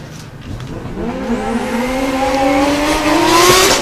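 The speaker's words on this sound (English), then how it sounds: "So Barker off the line, and Nissan 350's at a 67 on his first qualifying run" Nissan 350 drift car launching off the line at a British Drift Championship pro-am qualifying run in Buxton, its engine revving hard and climbing steadily in pitch, growing louder and closer with a tire squeal edge, no talking.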